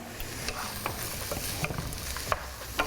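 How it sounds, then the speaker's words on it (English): Squash and frozen vegetables sauté in a pan with a steady sizzle, while a utensil stirs and scrapes in irregular clicks and taps up close. "what I'm doing with the squash and your frozen veg, and then saute it that way"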